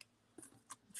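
Scissors cutting card paper for handmade Easter cards decorated as Fabergé-style eggs, two or three quick close snips with a crisp final cut, quiet and without speech.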